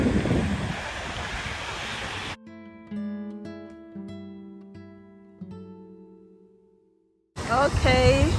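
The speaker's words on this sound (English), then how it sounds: "me on the beach, just watching the waves" Ocean surf rolls in on an Australian beach, a broad roar of breaking waves with wind buffeting the microphone, heard in two stretches either side of a gap filled with music.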